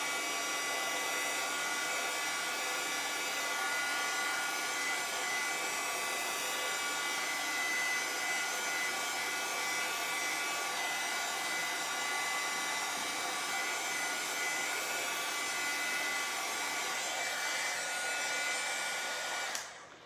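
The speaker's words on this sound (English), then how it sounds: "You could use a blow dryer for this step too" A hair dryer blows steadily and loudly for about twenty seconds while drying wood table risers, a constant whooshing whine up close, then clicks off at the end.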